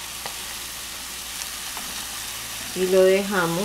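Sofrito sizzles in a pot of lentil soup, a faint steady frying hiss with a short burst of stirring near the end as a voice speaks briefly.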